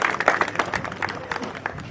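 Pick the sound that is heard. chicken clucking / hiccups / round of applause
round of applause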